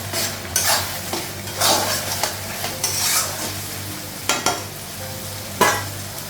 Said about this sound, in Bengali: ধনিয়া গুঁড়ো দেবো, মশলাটা একটু ভেজে নেবো।